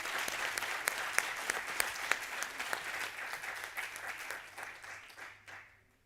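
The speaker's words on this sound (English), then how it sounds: "all we need is an applause for the panel" Auditorium audience at a medical cannabis conference in Lisbon applauding a panel: dense, steady clapping from a sizeable crowd lasting several seconds, then fading out at the end.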